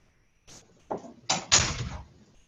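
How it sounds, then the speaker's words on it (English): An indoor door is shut with a few quick knocks and scrapes of handling, followed by a firmer closing thud, close and fairly quiet with no talking. "I'll go ahead and shut this door."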